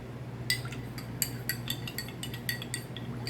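A spoon stirring a drink, clinking against the glass in a steady series of bright taps, roughly several per second, close and clear over a low background hum.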